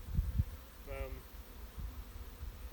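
Honeybees buzz in short agitated bursts as they are shaken off a hive frame, with a brief whining buzz over low handling thumps.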